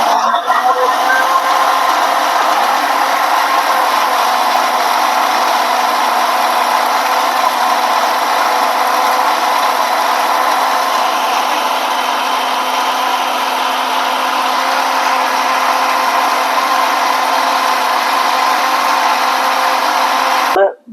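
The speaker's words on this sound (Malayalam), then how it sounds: "എന്നിട്ട് ഇത് അടിച്ചെടുക്കുക നമുക്കത് അടിച്ചെടുക്കാം" A blender runs continuously for about twenty seconds, whirring at a steady, loud pitch while mixing eggless, oil-free mayonnaise, then cuts off abruptly at the end.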